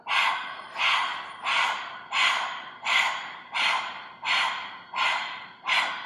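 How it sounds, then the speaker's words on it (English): Heavy dog-like panting done as a Kundalini breath practice, about nine loud, even breaths in a steady rhythm with no talking, each a sharp breathy burst close to the listener. "we'll do this heavy panting like a dog"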